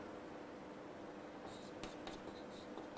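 Pen or marker scribbling notes for a human reproduction biology lesson, faint scratchy strokes arriving partway through over a steady background hiss, with no talking.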